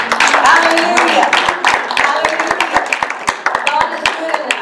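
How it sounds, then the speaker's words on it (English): A church congregation claps rhythmically in time during a Sunday service, sharp steady hand claps repeating under singing and shouted voices. "Let's give him a praise. Clap your hands."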